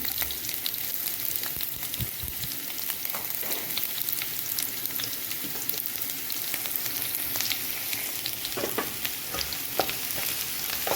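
Garlic, shallots and curry leaves fry in hot oil with a steady, dense sizzle throughout, joined by occasional stirring clicks and crackles close by, with no talking.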